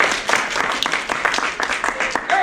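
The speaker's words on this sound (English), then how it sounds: "Clap if you know the kind of girl I'm talking about." An audience claps together in a dense burst of applause, many close hand claps overlapping briskly with some voices mixed in.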